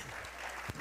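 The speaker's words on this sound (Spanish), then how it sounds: "a ver, aplaudo." Brief applause during a political interview about the Citizen Revolution and the National Assembly, a short steady wash of clapping heard alone for under a second.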